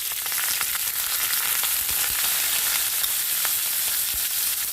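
Cumin seeds and curry leaves sautéing in a pan for Andhra-style puliyodharai, a steady loud sizzle throughout with faint scraping and crackling, close up and without speech.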